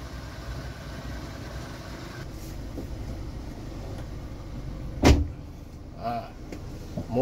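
A 2007 Daihatsu Terios TX with a manual gearbox idles with a steady low engine hum, heard from close by, with a sharp knock and a few brief clicks partway through.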